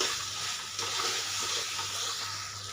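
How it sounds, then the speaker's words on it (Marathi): Hot water pours steadily into pea gravy in a pan with a hissing, sizzling rush, close up and continuous, with no talking. "आता याच्यामध्ये आपण गरम पाणी टाकून घेऊया"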